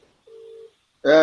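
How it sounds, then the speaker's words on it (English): A telephone ringing tone comes through a Zoom call: a single short electronic beep, a pause, then a louder, richer tone starting, thin and alone with no talk. "So as the phone is ringing, automatically it will mute the Zoom."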